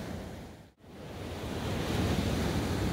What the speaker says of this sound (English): Look at the beautiful ocean.